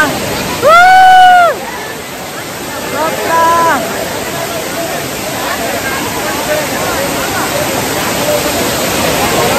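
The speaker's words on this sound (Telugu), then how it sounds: "గంటలు కష్టపడ్డాం ఈ వాటర్ ఫాల్ చూడడానికి" A constant broad roar of a nearby monsoon waterfall near Manuguru fills the scene, with a short voice call and a faint voice early on.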